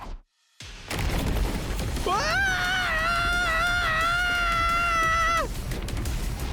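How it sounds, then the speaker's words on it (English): A long, wavering scream rings out in The Hundred Line video game, sustained for about three seconds in a labyrinth over a loud rumbling background after a sudden boom. "a pathetic scream echoed throughout the labyrinth"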